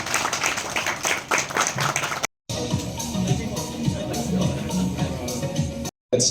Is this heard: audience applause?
yes